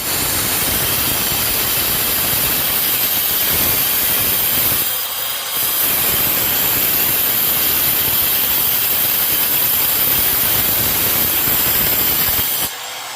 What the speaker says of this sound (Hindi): उसके बाद में ग्राइंडर से इस प्रकार आपको ये कटिंग कर लेना है।